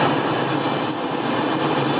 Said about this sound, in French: Les Alpha Jets décollent toujours impeccablement groupés.